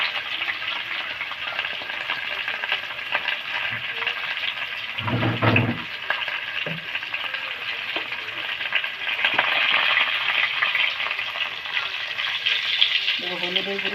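Chopped tomatoes and salt sizzle and fry steadily in a pan of oil for a rohu fish curry with potatoes, a loud continuous crackle with a brief stir or clatter partway through.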